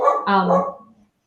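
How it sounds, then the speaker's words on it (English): A dog barks in a quick pair of yaps from somewhere nearby, each burst short and fairly loud before it drops away into quiet. "that's my dog barking"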